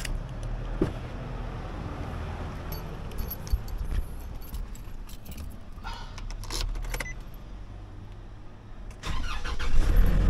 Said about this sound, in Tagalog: Painitin muna natin itong sasakyan bago tayo umalis.